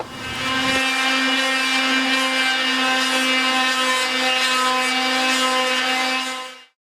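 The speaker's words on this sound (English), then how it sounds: "Now it's time to sand it. I sand it, I sand it again, I sand it more." A power sander working on a scrap wood paddle, a steady loud tonal whine with a constant rough hiss that starts, holds for several seconds and then winds down, close and with no talking.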